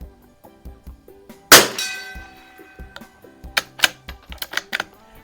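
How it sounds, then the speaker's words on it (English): A .22 LR bullet from a bolt-action target rifle strikes a steel gong target at a shooting range with a sharp, ringing clang, followed by several fainter metallic pings and clicks spread over a few seconds. "I really love shooting this gong."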